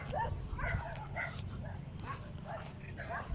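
Dog barking in short, sharp bursts at a moderate distance, repeated several times across a few seconds over a steady low rumble of background noise.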